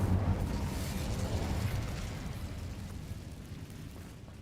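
An Incendio fire spell cast in Hogwarts Legacy: a whooshing, rumbling burst of flame that starts strong, then slowly fades into a softer crackling roar.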